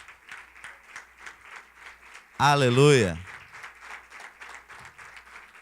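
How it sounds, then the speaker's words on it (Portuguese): A church congregation claps rhythmically in praise, soft steady beats through the clip, interrupted midway by a loud sung-out word from a voice over a microphone. "Pode sentar e aplauda o nome do Senhor Jesus."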